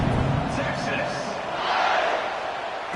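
Stadium crowd cheering in the College Football 26 video game, a broad continuous roar of many voices under a commentator's speech.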